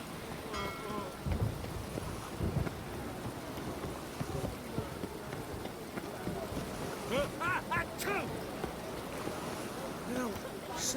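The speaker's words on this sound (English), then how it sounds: "Rain like this would fetch a fortune in Zerikani." Rain falls steadily with low rumbles of thunder in The Witcher 3, a soft continuous wash of rain with occasional deeper booms, fairly quiet overall, while a voice speaks in the middle of it.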